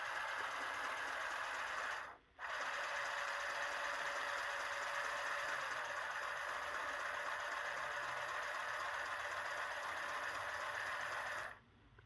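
Hornby Patriot model locomotive running on a 9-volt battery after its bent gear was straightened, giving a steady whirring motor hum with rattling vibration that cuts out briefly twice, close and alone.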